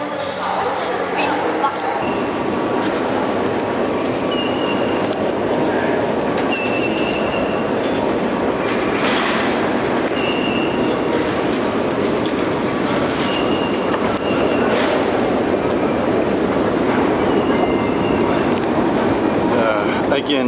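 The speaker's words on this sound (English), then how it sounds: "Again, the deepest subway in the world." Kiev metro subway train running in the deepest subway in the world, a loud continuous rumble of wheels on rails with high squeals and clicks throughout.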